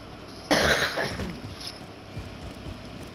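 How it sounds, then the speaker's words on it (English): A game character coughing from gas in Call of Duty: Modern Warfare, one sharp loud cough burst followed by a few fainter rasping coughs. "Why am I coughing?"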